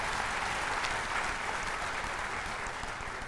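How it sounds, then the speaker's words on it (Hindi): Dense, steady applause from an audience at a national conclave at Vigyan Bhawan, many hands clapping together in a continuous even roar throughout. "एक बार इन सब के लिए जोरदार तालियों"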